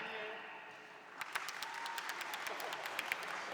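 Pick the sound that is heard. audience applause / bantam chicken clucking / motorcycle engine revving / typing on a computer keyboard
audience applause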